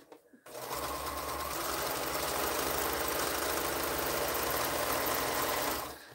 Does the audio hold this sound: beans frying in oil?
no